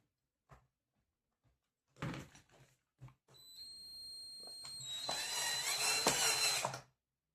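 A power screwdriver drives screws into the wheel of a model RC tractor: a few short clicks and handling knocks, then a brief whine and a longer buzzing run of the motor, close and fairly quiet.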